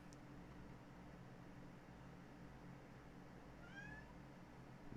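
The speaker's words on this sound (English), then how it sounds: "chatty cats" Faint cat meows, a short chirp at the start and a longer rising meow near the end, set against a steady hiss and low hum in a quiet room.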